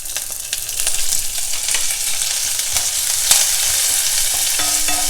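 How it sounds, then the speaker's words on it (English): Crushed green chili, ginger and curry leaves stir-fried in hot oil, a continuous sizzle with scattered scraping and clinking strokes, fairly close and without talk. "Stir fry all the items together."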